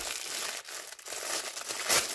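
Plastic packaging around a set of storage pouches for cross-stitch supplies is opened, producing steady close crinkling and crumpling for a couple of seconds that ends in a louder rustle, with no talking.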